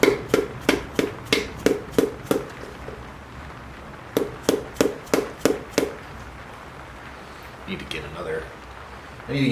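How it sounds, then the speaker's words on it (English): A hammer pounds a piston down into the cylinder of a 351W V8 during an engine build on a 1993 Ford F150 SVT Lightning, in two quick runs of about eight sharp, close, evenly spaced blows separated by a short pause. "pounding the piston down to get it to line up"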